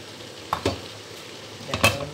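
Vegetables stir-fry in a pan with spring onions added, making a soft background sizzle broken by a few brief scraping clatters of a utensil against the pan.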